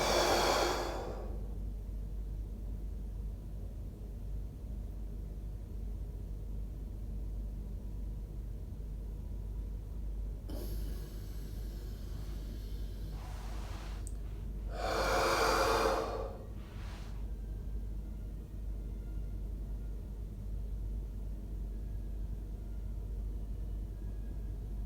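A big, forceful exhale during Uddiyana breathing in a Forrest Yoga session, with one strong breath out at the start and two more short, loud breaths later, close and alone over a quiet room hum.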